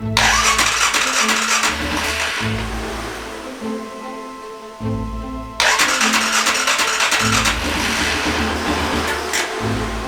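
An engine cranks in repeated starter bursts after a fuel injector check on an EFI engine, with loud churning whirs that pause into a brief quiet stretch before cranking resumes strongly.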